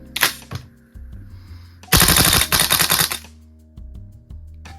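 A VFC Colt M727 gas blowback airsoft rifle fires outdoors: a couple of sharp single cracks, then a fast, loud automatic burst of about a second that sputters slightly, followed by a few faint clicks.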